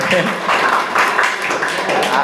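An audience at a student debate at a Tamil NSS special camp claps for a young speaker: steady, dense applause throughout, close and fairly loud.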